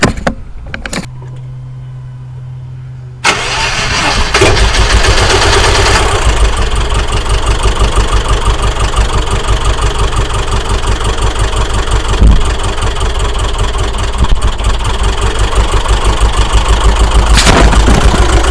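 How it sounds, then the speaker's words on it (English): A Subaru Outback engine with a broken timing belt and damaged intake valves cranks briefly, then catches and runs with a rough, uneven idle, steady and close, with no talking. "we've got a bad engine. Definitely had some intake valves hit, and it's running so poor"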